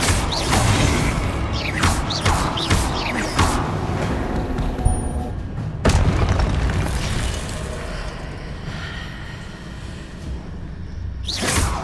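Incendio fire spell in the video game Hogwarts Legacy, a burst of roaring flame and whooshing blasts with deep booming impacts, loud and dense, alongside mechanical creaks and other spell effects.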